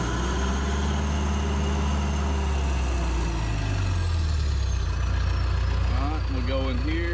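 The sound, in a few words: John Deere 450J dozer engine slowly revving up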